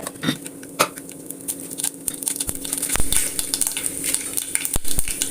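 Mustard seeds hitting hot ghee and coconut oil in a pan, with scattered popping crackles and sharp ticks over a steady sizzle, close by, with no talking.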